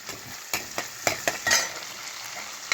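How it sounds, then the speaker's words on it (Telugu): Onions and green chillies fry in a pan for kurma, a soft sizzle under a series of close, rhythmic stirring scrapes and light utensil taps. "ఉల్లిపాయలు బాగా వేగిపోతున్నాయి"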